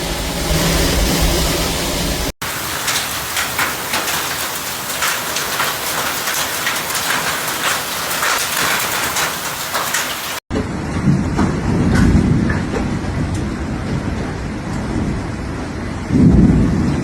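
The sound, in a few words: heavy rain and thunder during Brisbane storm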